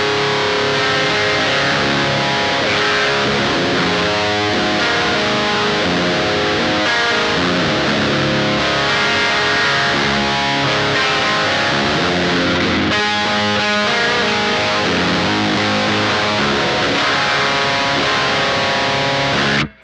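Electric guitar through an Electric Love Aquatone pedal with its treble knob set at noon, steady full-bodied chord playing sustained for about twenty seconds, loud and up front with no voices.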